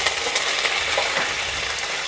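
Curry leaves sizzle in hot oil for lemon rice, giving a dense, steady crackling hiss close by with no talk over it.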